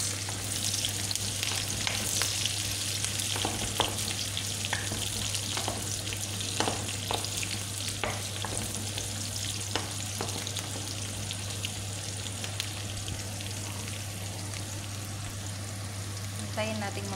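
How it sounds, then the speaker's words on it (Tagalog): Garlic and onion frying in hot cooking oil in a pan for chicken caldereta, a steady close sizzle with scattered crackles and pops running throughout, with a constant low hum beneath. "mainit na yung ating mantika. Lagay na natin yung bawang"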